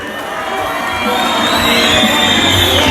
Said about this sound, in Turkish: Hep beraber alkışlıyoruz